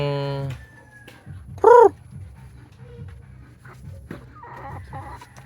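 Heritage chickens and turkeys cluck and call, coming and going near the listener in a free-range area, a loud squawk rising briefly in the middle, with people talking throughout.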